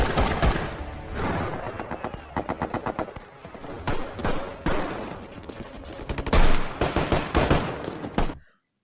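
Heavy automatic weapons and sniper shots in a film battle between special forces bank robbers and police, dense loud bursts of rapid gunfire with short gaps, continuous and close.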